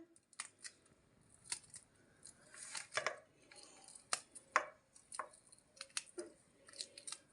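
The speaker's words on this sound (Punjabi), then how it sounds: "ਆਪਾਂ ਹਰੀ ਮਿਰਚ ਕੱਟ ਲੈਣੇ ਆ ਵਿੱਚ" Scissors snip finely through green chillies in a quiet kitchen, giving a string of short, crisp cuts at an uneven pace with no talking.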